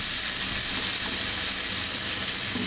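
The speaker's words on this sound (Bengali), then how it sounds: "এইগুলো একটু এর সাথে ভেজে নিব টমেটোটা নরম হওয়া পর্যন্ত।" Chopped tomato and yardlong beans fry with rice in a pan, giving a steady close sizzle and hiss that stays constant and fairly loud the whole time.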